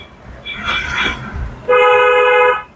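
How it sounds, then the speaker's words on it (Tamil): A car horn blares in one sustained honk lasting about a second during a driving lesson, loud and close, following a softer stretch of vehicle noise. "ஹாரன்."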